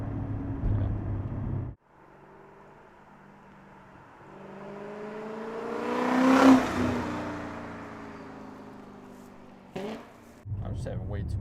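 A straight-piped BMW 540i V8 drones steadily while driving, rising to a louder revving swell partway through, with people talking over it at the start and end.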